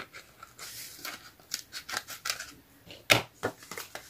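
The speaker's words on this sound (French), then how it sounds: "Donc ça, je vais le couper." Scissors snip through paper while a sketch card is made for scrapbooking, a run of quick crisp cuts with one sharper louder snip near the end, close up with no talk.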